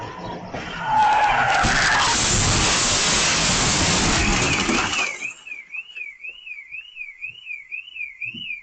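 A car skids with a long, loud tire squeal before crashing into a flowered fence, then the noise drops away and a faint warbling tone continues alone.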